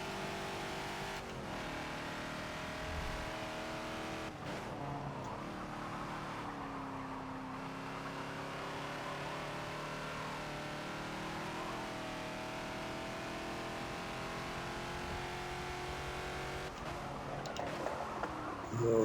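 A Ford Falcon XB racing at Sebring in the Forza video game, its engine droning steadily with rising and falling revs through shifts, continuous and alone.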